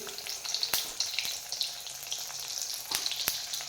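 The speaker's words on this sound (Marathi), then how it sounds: "जिरे मोहरे टाकली आता टाकते वांग्याच्या फोडी" Eggplant pieces drop into hot oil tempered with cumin and mustard seeds in a village kitchen, giving a loud continuous sizzle broken by sharp spattering pops, close by and with no voices.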